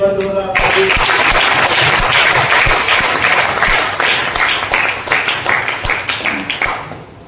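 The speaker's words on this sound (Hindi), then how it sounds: "ताली बजा लीजिए" Audience applause at an RCM business meeting, a dense sustained burst of clapping that swells right after a voice and then fades in uneven waves, with speech mixed in.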